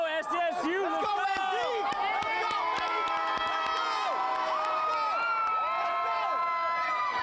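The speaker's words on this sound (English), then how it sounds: "the crowd is still very hype in this moment" Crowd of SDSU basketball fans cheering and whooping after the Aztecs' NCAA tournament run, a dense wash of many shouting voices with rising and falling yells and occasional sharp claps, loud and continuous.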